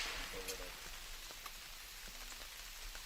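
Rain starts to come down hard at an outdoor trap shooting range during a para trap world championship final, a steady, dense hiss of drops on surfaces running throughout, with faint scattered knocks and distant sounds underneath.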